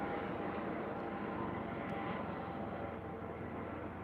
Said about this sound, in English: We have a lot of helicopters coming around.